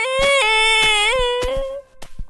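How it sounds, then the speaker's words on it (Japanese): A girl's high, wavering crying and whimpering sobs, heard as a sound effect from a restroom, close and tonal, breaking into short gasping sobs toward the end. "すると女子トイレの方から女の子の泣き声が聞こえてきました。"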